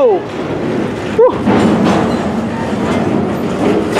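A CSX freight train rolls past close by, with steady rumbling wheel noise and a brief squeal early on, the railcars jerking as throttle is applied; a person speaks briefly over it.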